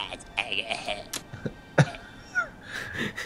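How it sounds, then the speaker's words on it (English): A few sharp coughs and throat-clearing sounds, close and fairly loud, scattered among bits of voice. "You have a cough."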